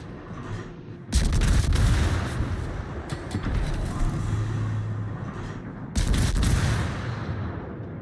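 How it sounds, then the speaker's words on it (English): Naval anti-aircraft gun shells firing in a video game, a dense rumbling barrage of booms and cracks with two loud salvos starting abruptly, continuous and heavy throughout. "Just trying to keep those shells going off in front here."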